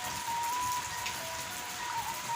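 Steady rain falls on surfaces in a village, a dense continuous patter with a faint thin tone running through it, loud and unbroken, with no talking.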